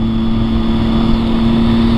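Triumph Street Triple 675cc three-cylinder motorcycle engine running up close, a loud, even mechanical drone with a strong steady hum and slight flutter, alone without voices.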